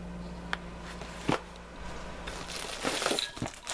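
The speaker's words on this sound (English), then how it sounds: "let's open the box" A cardboard box holding a Harbor Freight 4-inch angle grinder is opened indoors, with soft rustling and crinkling broken by a few sharp clicks and snaps, all fairly quiet.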